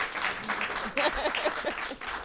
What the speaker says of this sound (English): So we'll clap it up for that too.